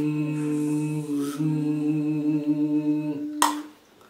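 A group of children hum a loud, steady mosquito-like buzz together, then end it with one sharp, quiet clap. The clap is followed by near silence.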